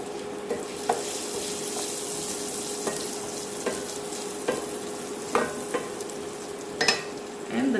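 Tiny dry prawns and dry chilies fry in oil with a continuous sizzling hiss, broken by periodic sharp clicks and scrapes as a spoon stirs the pan.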